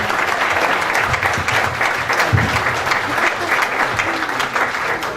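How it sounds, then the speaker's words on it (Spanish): Steady, full applause from an audience at the close of a lecture on political and electoral reform, a dense continuous patter of many hands with no one talking. "no sin antes brindarles un fuerte aplauso a nuestro maestro"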